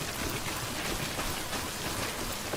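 Steady, dense rainfall in the Death Stranding video game, a continuous hiss of drops hitting surfaces with no breaks, at moderate level and with no voices.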